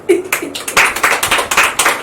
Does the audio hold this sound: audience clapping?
yes